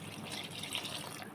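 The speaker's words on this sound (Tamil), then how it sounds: "அந்த ரைஸுக்கு ஏற்ற மாதிரி தண்ணி சேர்த்துக்கலாம்" Water pouring steadily into a cooking pot of basmati rice for mushroom biryani, a continuous close splashing rush with no talk.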